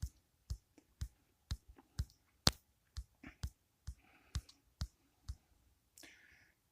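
Sharp, close mouse clicks during editing in Kinemaster tap out in a steady run of about a dozen single presses spaced roughly half a second apart, with faint breaths and murmurs between them.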